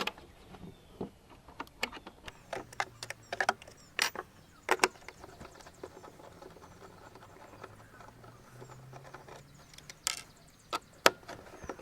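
A wrench works the nuts off a MistAway automatic mosquito control gauge, giving faint, scattered metallic clicks and ticks at irregular intervals over a quiet background.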